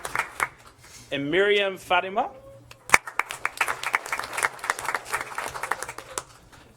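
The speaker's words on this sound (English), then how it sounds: "Let's give them both a round of applause." A crowd at a school district board meeting claps for honorees, a dense patter of hand claps filling the second half after a man announces names, with talk over the start.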